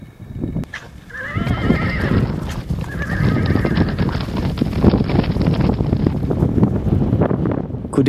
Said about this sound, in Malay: Kuda-kuda ini kelihatan amat jinak dan sukakan kameraku.